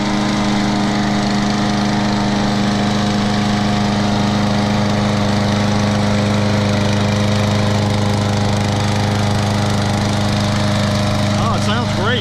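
A Poulan 21-inch lawn mower with a Kohler XT series engine runs steadily after starting, a loud close continuous engine drone with a constant low hum throughout.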